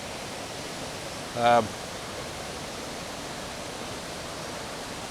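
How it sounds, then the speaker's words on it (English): Twin waterfall in Devon pouring into a rocky pool, a steady broad rushing roar heard nearby, with a single brief spoken word over it. "I've got like a twin waterfall in front of me with lots of beautiful rocks, and then directly beneath the waterfall there's a really nice pool."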